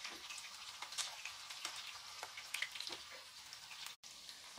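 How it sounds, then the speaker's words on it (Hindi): Manchurian balls fry in hot oil with a soft, steady sizzle and scattered crackling pops, heard up close but quietly, with no voices. "एक साइड अच्छी तरह से फ्राई होने के बाद फ्लिप कर लेती हूँ, चारों साइड अच्छी तरह से फ्राई कर लेती हूँ।"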